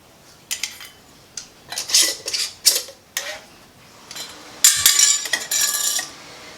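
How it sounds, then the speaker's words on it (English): Glass canning jars being fitted with metal lids and screw bands on a kitchen counter for home-canned sloppy joe sauce, giving a string of close, sharp clinks and metallic taps in irregular bursts with no talk. "we're going to place our lid, and then we're going to add our rings to fingertip tight"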